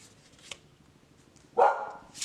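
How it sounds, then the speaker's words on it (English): A dog gives a single loud bark, followed by a second fainter one, against a quiet background. "the dogs are going to bark at it"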